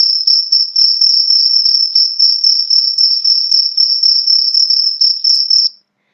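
A cricket chirping effect from a sound-imitation game: rapid, evenly pulsed chirps repeat close and loud with nothing else behind them, stopping abruptly after about six seconds.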